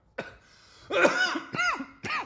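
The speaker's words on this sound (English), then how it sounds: "Yo, I'm actually coughing for real." Several harsh coughs from one person close by, a short burst followed by a few more spaced coughs, with no talking.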